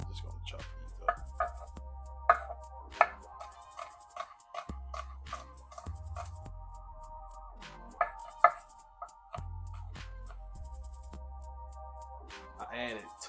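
Knife chopping vegetables on a cutting board for chicken noodle soup: scattered sharp taps at an uneven pace, quiet and close, with a low hum that comes and goes between the cuts.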